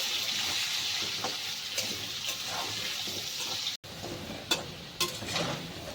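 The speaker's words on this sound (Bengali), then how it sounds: "ভালো করে আলুটা ভেজে নেব।" Potatoes frying in oil with salt and turmeric, a steady close sizzle with occasional scraping strokes of a spatula against the pan, fairly quiet and continuous apart from one brief dropout.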